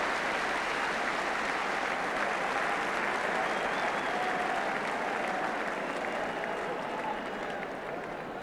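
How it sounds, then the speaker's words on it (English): Sustained roar of applause from a football stadium crowd at an Arsenal v Ipswich Town match, steady and dense throughout, with a faint commentator voice underneath. "Pat Jennings looks surprised at the applause."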